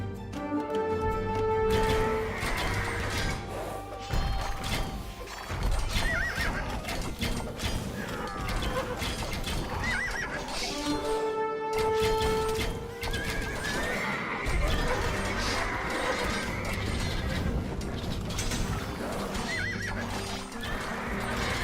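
In Age of Empires II DE, horses whinny loudly several times between rapid clip-clopping hooves, with mechanical clanking and game music layered underneath and no voices.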